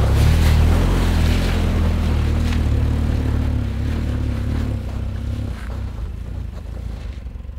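A Lada Niva Travel engine climbs off-road in low gear at about 1500 rpm, a loud, close, steady rumbling drone with rough broadband noise that eases slightly toward the end.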